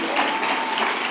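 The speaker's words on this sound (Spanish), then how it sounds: "démosle un aplauso al Señor por eso" A church congregation applauding at a Spanish-language sermon, a dense burst of steady clapping from a crowd in a hall.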